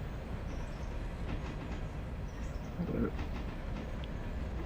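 Train in the Railroader game drifting downgrade, a steady low rolling rumble with faint wheel clatter and a brief soft knock partway through.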